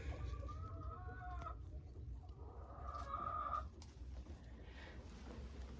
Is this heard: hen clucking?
yes